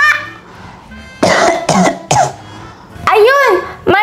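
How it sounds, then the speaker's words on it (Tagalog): A child coughs several times on request, short harsh bursts in quick succession, with a voice talking around them. "Ayun, may ubo ka."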